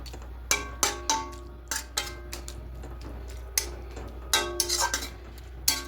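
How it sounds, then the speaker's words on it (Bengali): A utensil stirs prawn ghonto with spinach and bottle gourd greens in a pot. Sharp, irregular clinks and scrapes against the metal are separated by short quiet gaps, close and distinct, with no talking. "খুব ভালো করে মিশিয়ে নেব।"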